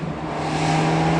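Abarth 124 Spider in sport mode with its exhaust valve open, a steady engine note that builds slightly in loudness over about a second.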